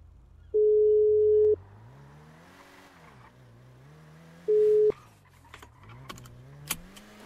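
A telephone busy signal sounds twice as a steady pure tone, about a second each with a pause between, over low background hum and faint rustling and clicks.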